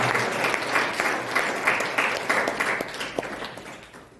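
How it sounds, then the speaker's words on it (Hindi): An audience at a Jain religious seminar in India applauds steadily for several seconds, a dense wash of many hands clapping together that tapers slightly toward the end. "सभी लोग जोरदार तालियां बजाकर उनका स्वागत करें।"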